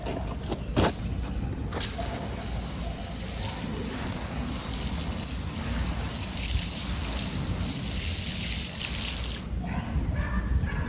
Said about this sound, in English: we will give it some water